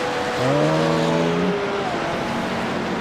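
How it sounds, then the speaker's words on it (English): Race cars lapping the Nürburgring Grand Prix circuit in the racing game Core GT, with a steady engine drone and a clear rising then falling engine pitch around the midpoint as a car passes close by. "I know some people like to hear the cars go around."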